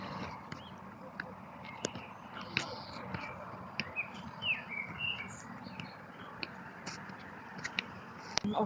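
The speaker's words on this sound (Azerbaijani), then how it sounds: "Bilmirəm, quşların səs gəlir yoxsa çox qəşəng oxuyurlar." Small birds chirp and tweet in a green outdoor spot, with scattered short calls rising over a steady low background hum throughout.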